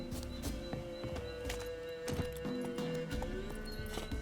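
A horse in The Witcher 3 moves at a rapid pace, its hooves clip-clopping in a quick, even rhythm close by, with a brief whinny and a few dull thunks mixed in.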